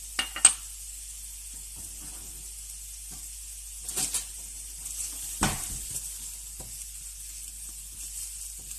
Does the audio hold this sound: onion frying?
yes